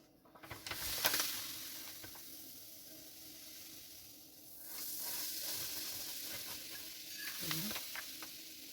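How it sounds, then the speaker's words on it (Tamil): Dry semolina (rava) being roasted in a pan for coconut rava urundai gives off a faint, steady hiss with soft scraping stirs and an occasional clink of the spoon. "ரவையும் வறுத்து எடுத்துட்டு அதுக்கப்புறம் தேங்காயும் கொஞ்சம் லைட்டாக வறுத்துக்கலாம்"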